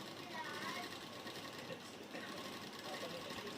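A sewing machine runs steadily while stitching a salwar seam, a continuous fast whirring hum with someone talking over it.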